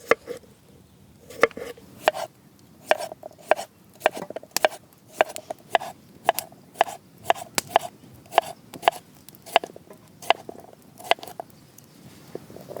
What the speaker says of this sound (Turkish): Öncelikle patatesleri keserek başlıyorum. Yuvarlak yuvarlak kesiyorum.